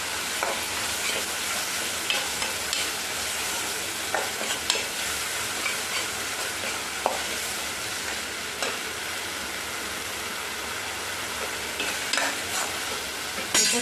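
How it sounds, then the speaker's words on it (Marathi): Ground coconut-garlic paste with browned onion sautéing in a pan, a steady soft sizzle with light scraping stirs throughout, no voices. "हे आता त्याच्यात टाकून घेते चांगलं परतून घ्यायचं"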